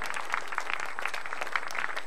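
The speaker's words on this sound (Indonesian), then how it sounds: "Tepuk tangan ya." At a stand-up comedy show, an audience claps in a brief, even burst of many hands, moderately loud and steady throughout, with no voices over it.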